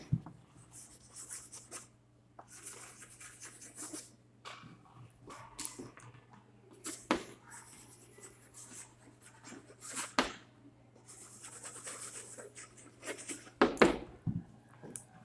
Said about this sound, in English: Now I'm going to write a sentence.